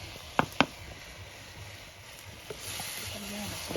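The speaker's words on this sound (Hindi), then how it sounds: "ये जो टमाटर की चटनी है हम लगभग 10 मिनट से फ्राई कर रहे हैं।" Tomato and walnut chutney frying in a pan makes a steady low sizzle, with two sharp utensil clicks early on and a slightly louder hiss toward the end.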